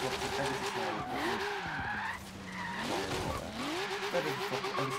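Car tires squeal and skid through a sustained drift in the Forza Horizon 3 racing game, with a wavering engine note rising and falling under the screech, loud and continuous for several seconds.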